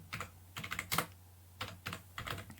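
Typing on a computer keyboard while writing Python code: quick close clusters of light key clacks in short bursts, with a brief pause in the middle and a faint steady hum underneath, no voices.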